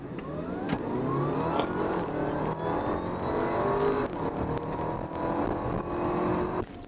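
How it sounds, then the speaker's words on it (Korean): An Audi A7 55 TFSI e quattro plug-in hybrid accelerating hard in sport mode, its engine note climbing steadily in pitch through the gears, heard from inside the cabin, loud and continuous without speech. "가속할 때 만나게 되는 소리가 참 매력적인데요"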